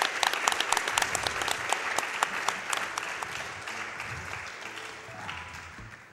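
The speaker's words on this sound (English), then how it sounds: "I'll give that another clap." A crowd applauding steadily, dense clapping that starts strong and gradually thins and fades over several seconds.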